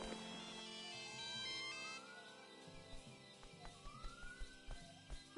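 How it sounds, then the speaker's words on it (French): Phone jingle from a store in a Lego Jurassic World video game: a sustained electronic melody with rising tones and faint background game sounds, quiet and continuous, ending in a few soft thumps. "Le téléphone! Ce stupide jingle de ton magasin!"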